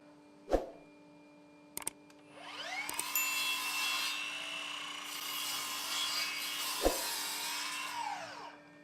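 A scrap of plywood is sawn to length by hand for a DIY acoustic panel frame, a steady run of close rasping strokes lasting several seconds, with a few sharp knocks before and during the cutting.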